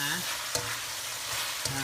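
Steady sizzling and frying of sour bamboo shoots in a pan, with scraping stir strokes of a spatula heard twice, close up and continuous.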